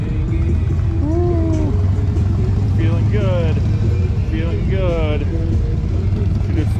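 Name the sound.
Harley-Davidson motorcycle riding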